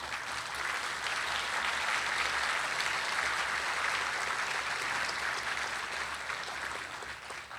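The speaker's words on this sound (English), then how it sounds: "round of applause" Sustained applause from a large audience, steady and dense clapping with no voices over it for the whole stretch.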